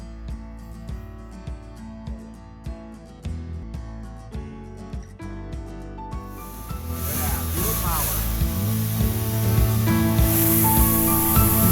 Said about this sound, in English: I got my handy dandy 3M Super 77 adhesive spray.